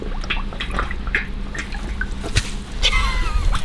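A pig kept behind an electric fence splashes in its water, making close, irregular drips, sloshes and small splashes at moderate volume, with some breathy snuffling.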